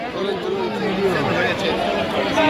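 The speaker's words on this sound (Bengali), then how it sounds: "মন্দিরের ভিড়টা দেখো।" Dense crowd of devotees packed in front of the Maa Tara temple at Tarapith on a new moon night in light drizzle, a steady close hubbub of many overlapping voices without pause.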